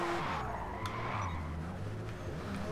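A race car in Forza Motorsport skids under braking, tires squealing and scrubbing while the engine drones and shifts pitch, a sustained close screech lasting a few seconds.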